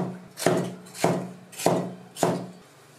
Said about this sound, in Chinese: 一个红椒切滚刀